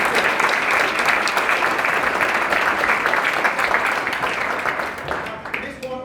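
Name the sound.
audience round of applause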